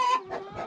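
A broody hen in the coop gives a few short, close clucks in quick succession, clear and alone.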